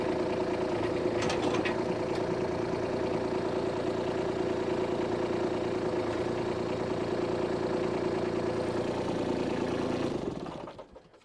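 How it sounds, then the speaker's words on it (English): A compact tractor engine idles steadily and close up for about ten seconds, a constant low rumble that cuts off and fades to silence at the end as the engine is shut down. "Now I'm going to turn the tractor off."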